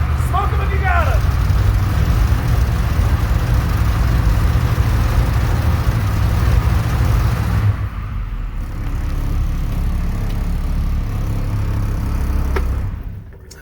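A carbureted vehicle engine cold-starts in the snow, running loud and close with a steady low rumble for about eight seconds, then settling into a quieter, even idle.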